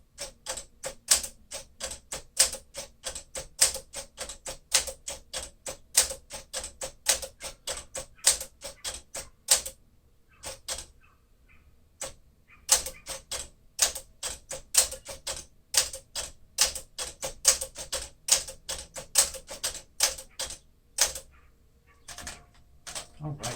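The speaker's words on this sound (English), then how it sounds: "Just a beautiful typing sample from this beautiful gray 1954 Smith Corona Sterling" Gray 1954 Smith-Corona Sterling typewriter typing in close, sharp keystrokes with steady rhythmic bursts, a brief pause midway, then more rapid typing.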